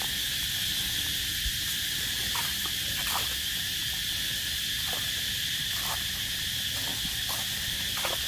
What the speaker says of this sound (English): Insect sounds again, cicada.